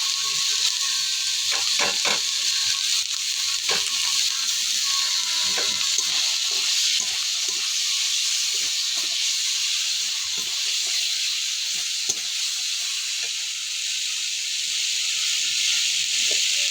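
Green chili paste hitting hot oil for an egg curry, giving a loud, continuous close hiss with scattered crackles and a few small clicks.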